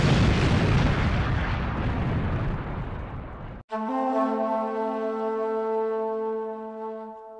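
A heavy, roaring blast of broadband noise from an explosion in a Superman story rumbles for several seconds, then cuts off abruptly into a sustained tonal hum.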